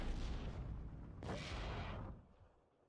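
Defensive artillery fire in the WWII strategy game Steel Division 2: one loud, close boom sets off a sustained rumbling roar that lasts about a second, then fades out beneath a dull background of battle.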